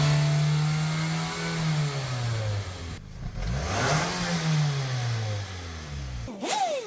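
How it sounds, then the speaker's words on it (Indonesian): The engine of a 2009 Toyota Camry is revved to about 5000 rpm, rising in loud sustained pulls, briefly dropping and climbing again, close and steady with no voices. "Dilakukan pengegasan dulu sampai 5000 rpm."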